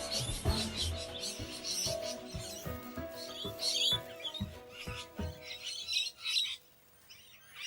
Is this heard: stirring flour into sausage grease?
no